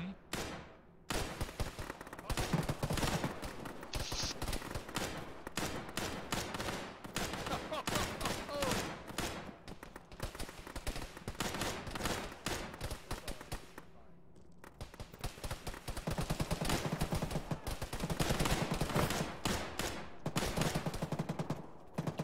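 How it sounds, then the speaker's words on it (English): Heavy machine gun fire in the military video game Arma, bursts of rapid gunfire, with shots near and far coming in waves and brief pauses over a long firefight, with a voice talking intermittently. "We're under heavy machine gun fire, northwest."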